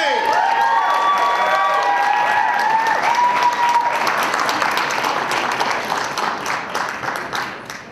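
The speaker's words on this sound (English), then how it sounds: "Let's give a big round of applause." A poetry slam crowd applauds loudly and cheers, with a few whoops and shouts ringing out early over sustained dense clapping that gradually fades toward the end.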